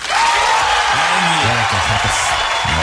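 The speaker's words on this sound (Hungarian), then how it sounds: "Jogos ezért a taps és a sikoly." Applause and whoops from a radio morning-show studio, a dense continuous wash of clapping and cheering with voices rising through it, loud and close throughout.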